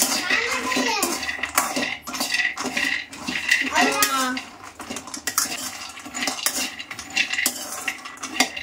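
Half a kilo of almonds is heated over a low flame and stirred in a pan, producing a close, busy clatter of nuts rattling and a utensil scraping against metal.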